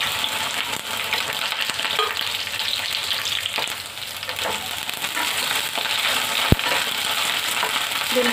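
Okra (bhindi) frying in a pan for a dhaba-style vegetarian meal, with a steady, even sizzle and faint stirring sounds throughout, plus one sharp click near the end.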